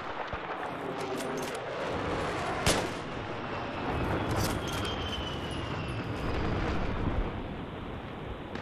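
Gunfire in Battlefield 3 on Xbox 360, a dense ongoing battle with one sharp loud shot standing out among continuous distant rattling and blasts.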